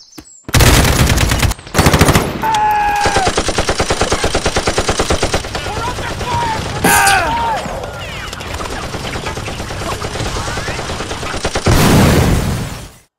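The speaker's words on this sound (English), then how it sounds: "Suppressive fire!" Rapid machine gun fire in long sustained bursts from a toy army men stop-motion battle, loud and close, with short gaps between volleys and a final heavy burst.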